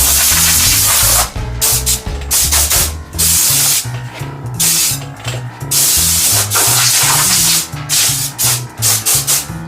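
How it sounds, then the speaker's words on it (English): An air gun blows sawdust off a table in a wood shop, producing loud close hissing blasts in repeated short bursts separated by brief gaps. "I'm going to blow off the sawdust."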